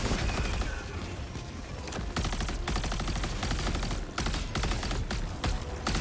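Rapid bursts of automatic fire from the Sickle weapon in Helldivers 2, dense and loud, with brief pauses between volleys and no voices over it.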